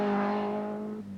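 Ford Escort rally car in the 1986 Ulster Rally, engine droning with a steady strong harmonic tone that holds for about a second, then drops slightly as the car moves off, fairly close and loud.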